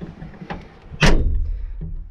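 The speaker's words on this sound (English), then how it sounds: "I'll close this door because it's freezing." A door on a 1969 FJ40 Land Cruiser swings shut with a single solid metallic thunk, close and loud, after a few faint clicks and rustles, with a brief rattle trailing off.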